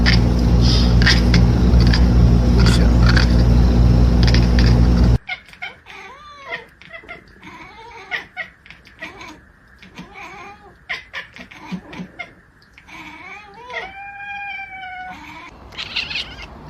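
A cat meows and caterwauls in a run of quick, rising and falling cries, some short and some drawn out, fairly close and clear after a loud opening burst of other noise.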